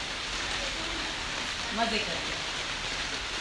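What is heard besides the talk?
rain falling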